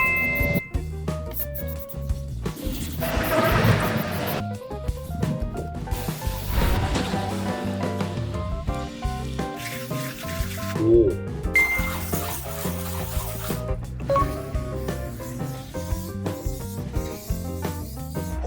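A car wheel is scrubbed with alkaline and acidic wheel cleaners, a continuous rubbing and brushing sound at moderate volume with light clinks, heard under a musical backing.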